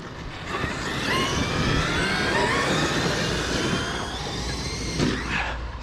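Traxxas X-Maxx RC monster truck driving outdoors, a steady whining electric motor drone with shifting pitch and rough broadband noise, moderately loud throughout with a brief surge near the end.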